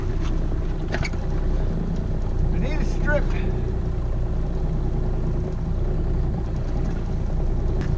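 A motorboat engine drones steadily and loudly throughout while someone talks over it, out trolling with a planer.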